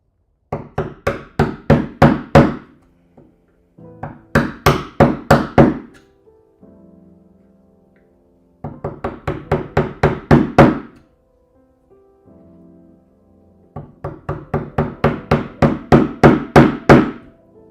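A hammer strikes a chisel being driven into a live edge walnut slab in quick bursts of six to nine sharp thunks. Short pauses separate the bursts, and the blows sound close and loud with no talk.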